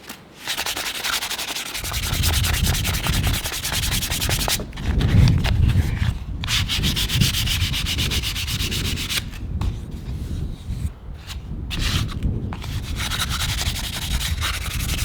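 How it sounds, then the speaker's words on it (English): Sandpaper of 320 grit rubbing back and forth over a wooden kitchen tool during refinishing, a steady close scratchy hiss with a continuous rhythmic texture and brief pauses, no talking. "This is 320 grit."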